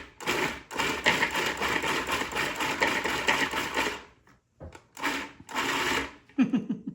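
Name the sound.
food processor pulsing deviled egg filling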